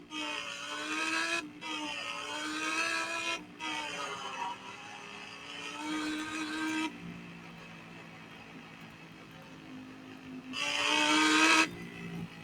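An Audi R8 drives in the Roblox game Driving Empire, its engine droning and revving up through gear changes with sharp harmonic whines, loud and close, no talk.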